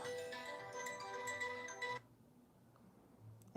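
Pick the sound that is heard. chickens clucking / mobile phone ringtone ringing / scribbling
mobile phone ringtone ringing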